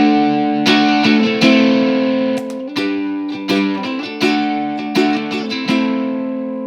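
Ukulele run through a boosted Soul Food overdrive pedal, a string of strummed and plucked notes and chords with a thick, clipped, sustaining distortion tone, played alone and ringing out between strikes.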